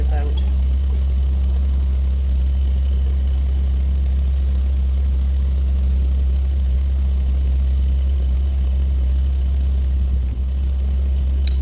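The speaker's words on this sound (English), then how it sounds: "We sure found our backhoe very handy here for manipulating stuff" A backhoe engine runs steadily at a construction site while moving drywall and building materials for a cabin build, giving a constant deep, loud rumble throughout with no change in pace.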